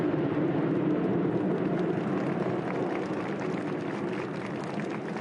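Military jets pass overhead as a broad, steady roar that fills the air and fades slightly toward the end, with no voices heard.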